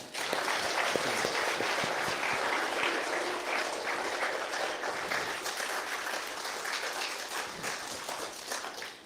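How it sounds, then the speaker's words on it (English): Audience applause at a church service rings out steadily and fairly loud for the full length, a dense wash of clapping with no talking over it. "Let's give one more round of applause."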